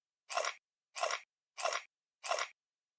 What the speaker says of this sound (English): I really like this crunchy noise.